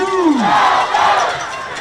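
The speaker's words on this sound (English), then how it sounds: "This crowd is loving it, man." A baseball crowd at a Longview Lobos versus Frisco Reedy game roars and cheers loudly, with a rising shout leading into a sustained, full-throated wave of noise.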